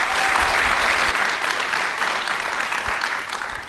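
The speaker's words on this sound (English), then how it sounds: "if we could give them a hand of applause." An audience claps together in sustained applause at a talk on whether children matter in Australia, a dense steady patter that tapers slightly toward the end.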